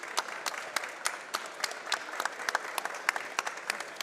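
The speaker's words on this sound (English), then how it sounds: "I want to give everyone here a round of applause for helping us" Audience applause at a livestreamed RE+ PowerUp Live industry event thanking partners, heard as a thin, fairly distant patter of many hands at moderate-low level, steady with scattered sharper claps for about four seconds.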